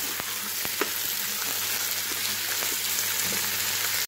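Marinated chicken fries in a pan for a Hyderabadi biryani, giving a steady, close sizzle with a few sharp clicks of stirring scattered through, and no voices.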